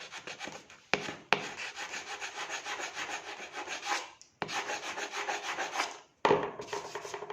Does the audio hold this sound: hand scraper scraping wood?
yes